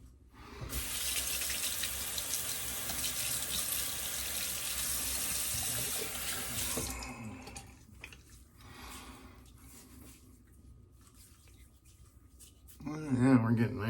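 Water runs from a tap into a tub to rinse out soap, a loud steady gushing stream for several seconds that then cuts off, followed by quieter drips and splashes and a voice near the end.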